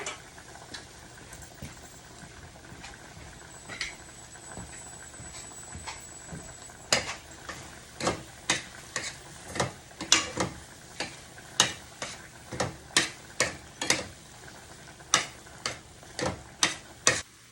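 Cooked red potatoes are mashed with olive oil and salt. Soft scraping gives way to a run of regular, close tapping knocks about twice a second as the masher strikes the bowl.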